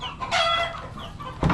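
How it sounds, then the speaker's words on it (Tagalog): Chickens cluck and a rooster crows close by, with busy overlapping calls that swell briefly before a short loud burst near the end. "Ang ingay na ng mga manok"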